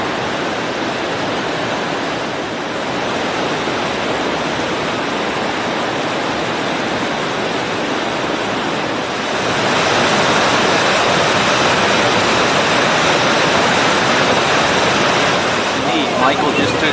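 Waterfalls along upper McDonald Creek send a steady, loud broadband rush of falling water, continuous throughout and swelling slightly in the second half.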